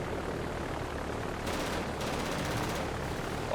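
Bf 109 fighters strafe with rapid machine-gun bursts in the naval warfare game Victory at Sea Atlantic, two short volleys over a steady engine drone.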